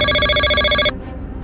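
A telephone bell rings loudly in a steady, continuous electronic trill, then cuts off abruptly just before the end, leaving only a quiet room.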